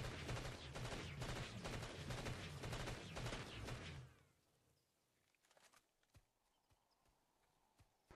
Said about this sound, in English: And an entire magazine with burst fire.